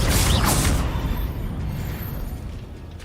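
A Confringo spell explosion in the Hogwarts Legacy video game bursts out sharply and loudly, then decays into a fading rumbling tail over a few seconds.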